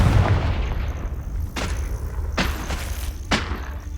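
Confringo fire spell blasts in the video game Hogwarts Legacy, with three sharp booming bursts in quick succession over a dense rumbling battle background.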